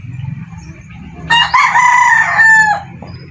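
A backyard gamefowl rooster crows once, loud and close, a long drawn-out call lasting over a second, with soft farmyard noise and faint clucking before it.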